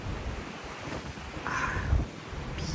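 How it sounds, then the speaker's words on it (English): Strong wind roars across the deck of the Regal Princess cruise ship in the Gulf of Mexico, with waves surging below; a steady, loud wash of gusts and surf continues throughout with no voices. "It's still very, very windy out."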